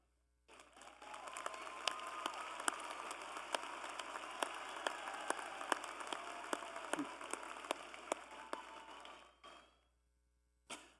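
A large crowd applauds steadily for several seconds at a college commencement ceremony, a dense wash of clapping that fades out, then a brief burst of clapping returns at the end.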